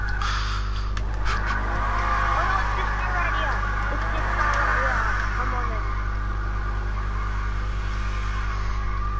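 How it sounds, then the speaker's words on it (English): Cars drive and rev in the video game GTA Online, a steady engine drone with shifting tones and occasional tire noise, under players talking. "He just drove through my car."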